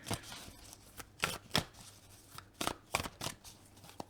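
A deck of animal oracle cards being shuffled and cut, giving quiet papery riffles and soft slapping snaps in an uneven rhythm, close up and isolated.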